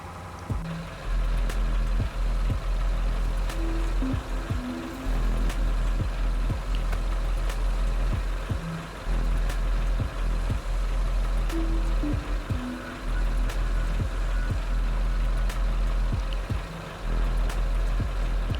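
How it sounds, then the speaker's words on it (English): A road vehicle's engine runs steadily in Endzone 2, a post-apocalyptic settlement game, with a low droning rumble broken by brief dips and scattered clicks and ticks across the clip. "Engine running."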